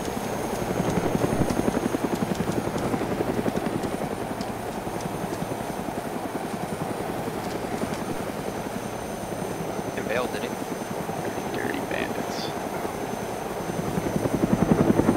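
A video game helicopter's steady rotor thump and engine drone runs throughout, loud and close, with faint chatter and a few small chirps over it.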